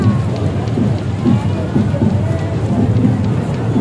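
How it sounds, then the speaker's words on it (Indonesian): Heavy rain falls at an outdoor drumband championship: a loud, dense, steady hiss and patter fills the whole stretch with no breaks, and low rumbles sit beneath it. "Hujan."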